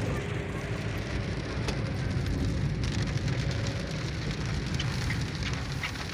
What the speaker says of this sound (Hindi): तो ये तेज़ बारिश शुरू हो गई है